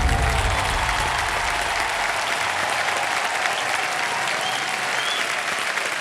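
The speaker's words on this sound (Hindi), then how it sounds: "मैं इस दौर के समापन का प्रारंभ उन्हीं तालियों के साथ करना चाहूंगा।" Sustained studio audience applause from a TV quiz show set, a dense, even wash of clapping that holds steady throughout without pause.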